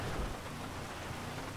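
Steady rain falling in the open-world video game GTA 5, a dense even hiss of drops with low rumbling underneath and no talk.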